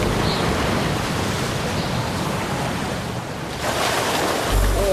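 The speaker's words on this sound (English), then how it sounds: "It's hard to imagine anything standing up to a wall of water like this." Powerful sea waves crash in a steady, roaring wash of surf close by, a continuous loud rush that swells again near the end with wind buffeting the microphone.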